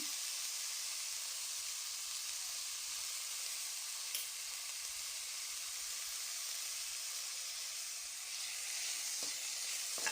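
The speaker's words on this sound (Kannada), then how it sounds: "ಟೊಮೊಟೊ ಸಾಫ್ಟ್ ಆಗೋ ತನಕ ಹುರ್ಕೋಬೇಕು" Chopped tomatoes with a teaspoon of salt sizzle in a pan as they fry for an aloo capsicum dry dish, a steady, soft, close hiss that stays even throughout with no talk.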